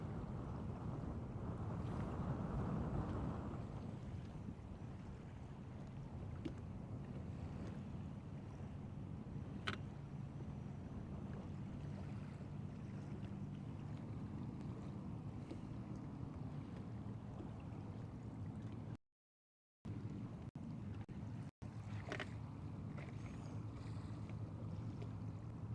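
Wind buffets a fishing boat out on Lake Guntersville, a low steady rush and rumble across the microphone, fairly quiet overall, with a brief dropout partway through and a few faint knocks.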